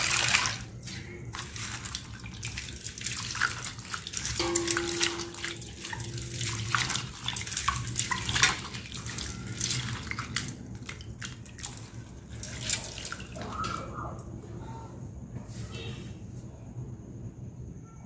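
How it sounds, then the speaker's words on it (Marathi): Mixed grains for a high-protein multigrain dosa being rinsed by hand in water, a loud continuous splashing and swishing close up, with running water and no speech. "परत एकदा धुवून घेते मी, असं 2 वेळा किंवा 3 वेळा धुवून घ्यायचं स्वच्छ"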